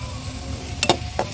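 Potatoes and spices fry in a pan with tomato, a soft continuous sizzle under two or three quick scraping stirs of a spoon close by.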